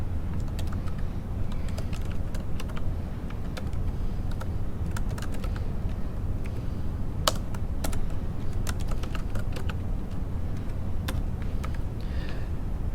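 Continuous typing on a computer keyboard, a steady stream of light clicking keystrokes with occasional sharper taps, close and alone without talk.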